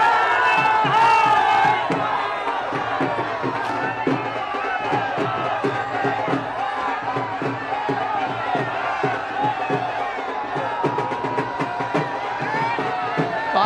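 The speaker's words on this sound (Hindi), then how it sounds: "आपको इस भीड़ में समवेत स्वर में जो मोदी मोदी के नारे लग रहे हैं उसके साथ ही साथ ढोल ताशे के स्वर भी नजर आ रहे होंगे" A large crowd in Varanasi chants and cheers rhythmically for PM Modi, with dhol and tasha drums pounding rapid, steady beats beneath the loud, sustained roar of voices.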